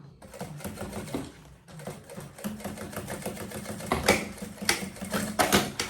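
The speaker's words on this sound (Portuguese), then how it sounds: "vocês costuram na máquina doméstica tranquilo" A domestic sewing machine stitches fabric for a simple banana waist bag. Close rhythmic bursts of needle clatter run with a brief pause between runs.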